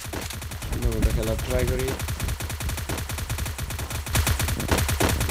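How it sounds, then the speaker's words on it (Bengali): Rapid automatic gunfire from the mobile shooter game Free Fire rattles in dense bursts throughout, loud and continuous, while a player talks briefly over it. "সবাই যে হারে ফায়ার করতেছে"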